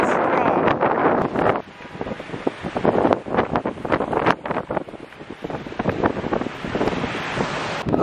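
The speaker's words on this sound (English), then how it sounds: "Okay, the wind is strong." Strong gusting wind before a storm under dark clouds outdoors, roaring and buffeting straight into the microphone in loud uneven surges for several seconds, alone without talk.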